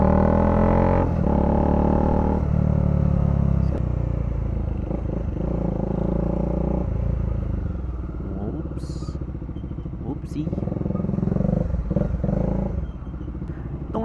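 Cold Bajaj Dominar 400 motorcycle engine while riding, a loud, close throbbing drone that rises and falls with throttle changes, along with wind noise and a few clicks and clatters.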